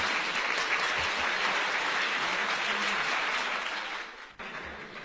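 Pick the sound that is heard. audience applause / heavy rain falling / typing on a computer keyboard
audience applause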